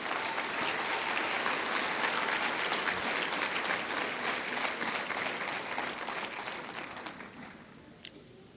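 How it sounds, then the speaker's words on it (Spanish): A congregation at a Sunday morning church service applauds steadily for several seconds, a dense wash of clapping that gradually fades out near the end. "¿Cuántos le dan un aplauso a Dios en esta mañana?"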